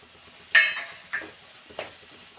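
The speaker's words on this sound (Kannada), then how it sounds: "ಇದೆಲ್ಲ ಎಣ್ಣೆಲೆ ಹಸಿ ಸ್ಮೆಲ್ ಹೋಗೋವರೆಗೂ ಫ್ರೈ ಮಾಡೋಣ." Turmeric, garam masala and sambar powder land in hot oil with curry leaves, giving short sizzling bursts as spices and a spoon stir the pan, three quick pulses close and alone.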